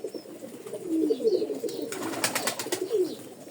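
Pigeons coo in soft, repeated low throaty phrases from close by, with a brief burst of broadband rustling partway through.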